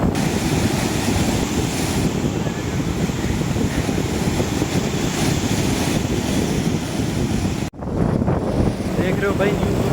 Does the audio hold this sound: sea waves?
yes